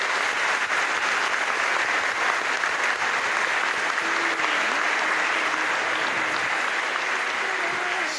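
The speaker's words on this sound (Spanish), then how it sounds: "Les damos un aplauso." A crowd applauds steadily after first communions, with dense clapping held at an even level throughout, loud and close.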